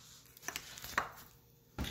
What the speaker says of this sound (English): I'm chopping up this banana.